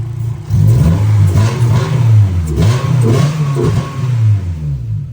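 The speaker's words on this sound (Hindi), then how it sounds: "जरा गाड़ी को 2-3 रेसे दे के चेक करती हैं" A K24 engine running on nitrous in a car gets loud, close revving: several rising and falling blips of engine roar over a constant rumbling idle, with no talking.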